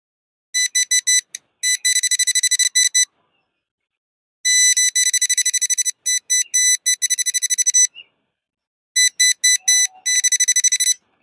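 Metal detector sweeping for gold at an old sacred grave site, giving loud rapid electronic beeps in three separate bursts with short silences between them and no talk.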